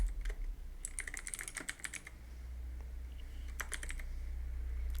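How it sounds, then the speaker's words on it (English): Rapid typing on a computer keyboard, two short bursts of crisp close clicks separated by a pause, over a steady low hum. "Now type here background apps,"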